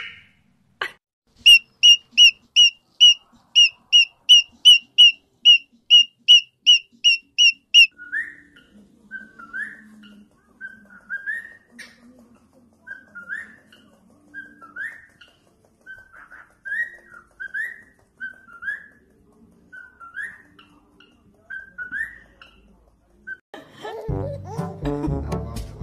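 A pet cockatiel whistles a quick run of clear, evenly spaced high notes, then shifts to a slower series of shorter chirping whistles, with a brief burst of louder noise at the very end.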